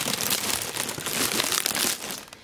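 A plastic bag with a hole cut through the center, placed over a camera lens as a filter, crinkles loudly and continuously right at the microphone for a couple of seconds, with no talk.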